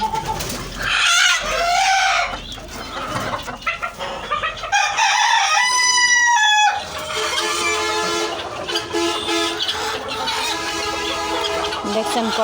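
Backyard chickens cluck busily and close, with a rooster crowing loudly partway through and pigeon-like cooing and other bird calls mixed in.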